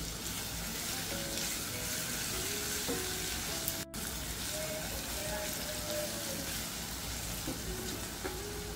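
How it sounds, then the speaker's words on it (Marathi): Sliced onion fries in a pan on a raised flame with a little salt, giving a steady close sizzle with occasional stirring scrapes and faint clinks throughout. "कांदा हलकासा बदामी रंगावर परतून घ्यायचा आहे। आता गॅस थोडासा मोठा करते, थोडंसं मीठ घालते म्हणजे कांदा लवकर परतला जाईल।"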